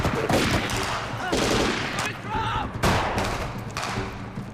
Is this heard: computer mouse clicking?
no